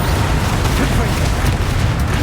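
Fire-blast spell explosions in a wizarding action video game, a dense continuous roar of booming blasts and crackling bursts, loud and close throughout, with a voice shouting spell names over it.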